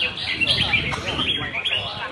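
Competition songbirds at a club tournament call in dense, high, rapid chirps and trills, loud and close, mixed with someone talking.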